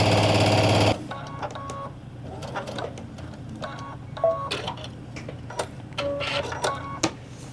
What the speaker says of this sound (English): But I'll just sew it and we'll never even know.